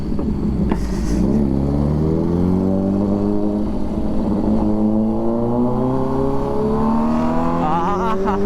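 A Kawasaki Z900 with an Arrow full exhaust system revs loud and close, its engine note climbing steadily in pitch over several seconds, with brief popping crackles near the start and at the end.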